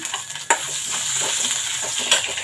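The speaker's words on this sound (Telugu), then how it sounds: "ఇవి బాగా వేపుకుందాము పప్పులన్నీ బాగా ఎగే వరకు వేపుకుందాము" Lentils and crushed ginger fry in oil for a tempering, giving a close, steady sizzle with light stirring scrapes and a couple of sharper clinks.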